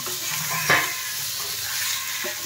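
Raw green banana, potato, papaya, eggplant and drumstick pieces sizzling in a hot pan while being stirred, with a steady fry hiss and a few scraping clacks of the spatula, one louder scrape near the middle.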